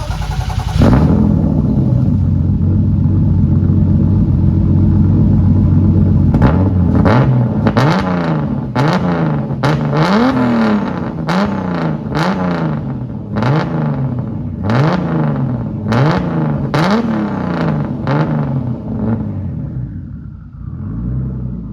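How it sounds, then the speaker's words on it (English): A BMW E30 with a turbo M52 engine swap and full 3-inch stainless exhaust idles with a deep rumble, then is revved repeatedly in short bursts, each rising sharply and falling back, loud and close. "a couple small revs, see what it sounds like"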